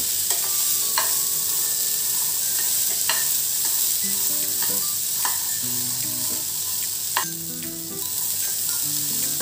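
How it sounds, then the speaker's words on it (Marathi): Chickpeas sautéed in a pan for chana masala chaat, a steady close sizzle with repeated spoon scrapes and taps against the pan, no voices. "एक साधारण 2 मिनिटे आपण हे चणे परतून घेणार आहोत।"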